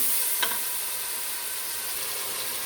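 Tomatoes frying in desi ghee with onion and garlic give off a steady, close sizzle with one brief stirring scrape near the start, and no voices.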